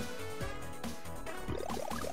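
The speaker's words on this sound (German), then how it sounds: "Und jetzt schwimmen wir da eine Runde." Retro SNES-style game water effects from Things.smc: bubbly, rising chiptune blips repeat in quick runs over a steady low musical backing as a character swims.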